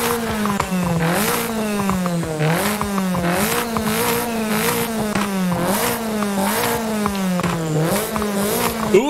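A Polonez Trapez fitted with a street intake in the Forza Horizon 5 racing game revs repeatedly, its engine note climbing and dropping in rhythmic waves with bursts of intake rasp, loud and close with no talking.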